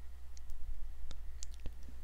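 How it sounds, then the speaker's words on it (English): A few faint, sparse computer mouse clicks over a low steady hum, made while clicking through virtual machine thumbnails in lab management software. "Switching between VM consoles is done by clicking on the VM thumbnails above."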